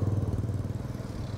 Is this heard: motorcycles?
yes